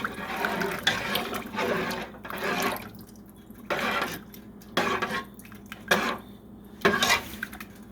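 A spoon stirs loaded potato soup in a pot, scraping and clinking against the metal in slow, repeated strokes with wet sloshing, each stir rising and fading at roughly one-second intervals.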